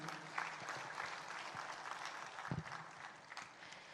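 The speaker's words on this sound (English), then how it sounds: "Can we hear a huge round of applause for all the award winners," Audience applause for award winners at a dairy industry conference, a dense, continuous patter of many hands in a large hall, steady and moderately distant with a few louder claps standing out.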